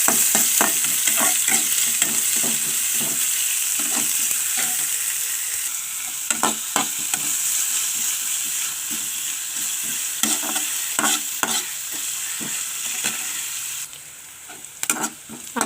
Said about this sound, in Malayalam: ചൂടായി വരുമ്പോൾ കടുകിട്ട് കൊടുക്കാം. ഉള്ളിയും പച്ചമുളകും അതിലേക്ക് ഇട്ട് കൊടുക്കാം.